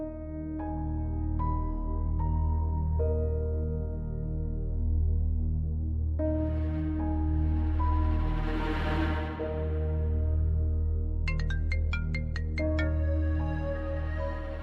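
A phone ringtone plays a melodic electronic tune for an incoming call, with repeated bright tones and chimes over a soft, steady low backing.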